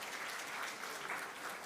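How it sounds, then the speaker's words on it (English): An audience claps during a talk on empowering the self, a dense, even burst of applause sustained at steady volume from start to finish. "Quick round of applause"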